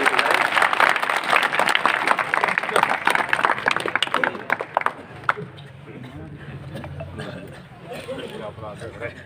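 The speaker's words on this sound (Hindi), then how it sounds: "एक बार जोरदार ताली राजेंद्र जी के लिए" A crowd at an outdoor election rally claps loudly and steadily for several seconds, the applause thinning out toward the end as a voice continues over it.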